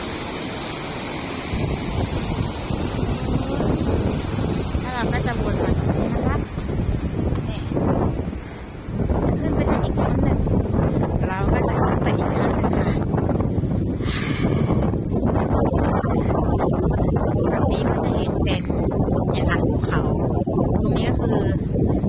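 Fast boat engine roaring steadily off the coast of Norway, with heavy wind buffeting the microphone and rushing water, loud and continuous throughout.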